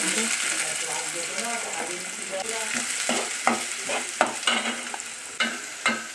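Garlic and then onion frying in a pan with steady sizzling, a spoon scraping and stirring now and then with sharper clinks, while a voice talks softly underneath.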